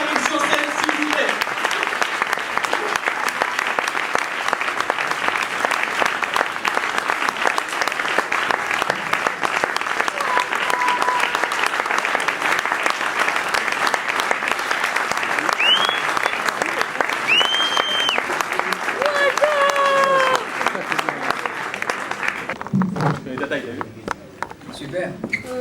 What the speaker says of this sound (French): On applaudit jusqu'à ce qu'il arrive sur scène